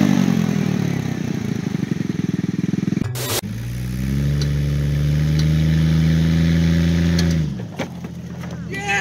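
A car or motorcycle engine idles and revs, then cuts out abruptly as it stalls near the end, followed by a brief quiet before people react with excited talk and exclamations.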